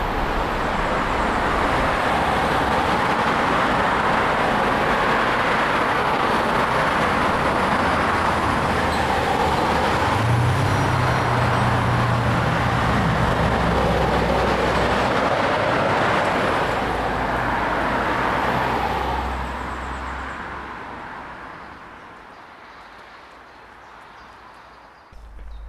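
Heavy trucks and road traffic roar past near a rural footpath by an English windmill, a loud continuous rumble with a deep passing vehicle swell midway, then fading away toward the end.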